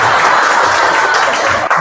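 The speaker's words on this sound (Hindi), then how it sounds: "दक्ष के लिए एक बार जोरदार ताली" Studio audience applause for a contestant on a game show, a steady dense clatter of hand claps filling the whole stretch at close range, with a slight dip just before the end.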